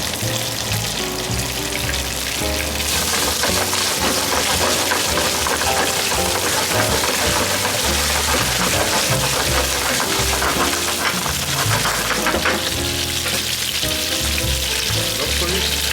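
Bacon sizzles and spatters steadily in a hot pan over a high flame, a loud, dense crackle that runs throughout with no pauses and no voices over it.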